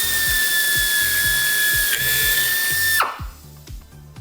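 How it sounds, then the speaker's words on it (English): A power drill bores a hole through sheet metal for a round-headed rivet. A steady high whine runs for about three seconds, then cuts off, leaving a repetitive clicking ratchet-like ticking in the quiet afterward. "go ahead and pull the trigger and drill the hole"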